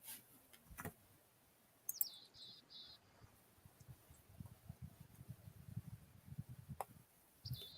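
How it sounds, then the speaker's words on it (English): A wild bird calls at sunrise outdoors in several short high chirping bursts, separated by quiet stretches of low rustling and handling noise. "Oh, what kind of bird was that? Did you all just hear that?"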